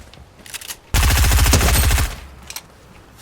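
A burst of rapid automatic gunfire rings out in the Fortnite video game, loud and dense for about a second, framed by faint clicks and quieter game sounds.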